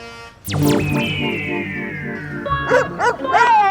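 A dog lets out a quick run of yips and barks, loud and close, over a musical background with swooping tones.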